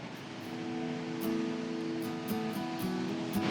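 Ocean surf washes in continuously beside the Brunswick Heads break wall, a steady broad rushing hiss with faint brief ticks and hums over it.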